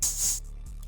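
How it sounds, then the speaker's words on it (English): An open hi-hat sample in FL Studio for a trap beat, a single bright, hissy cymbal wash lasting under half a second and then decaying, with a faint low hum underneath. "This is what the open hat sounds like normally."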